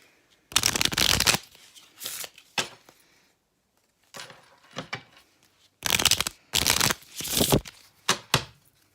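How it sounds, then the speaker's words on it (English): Bursts of riffling playing cards, several quick shuffles separated by short pauses, close and crisp. "give this a good shuffle"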